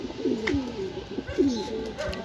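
Racing pigeons cooing at the loft as birds return from a 148 km training flight in Urdaneta, Pangasinan, soft repeated coos close by with faint chirps and a voice talking over them.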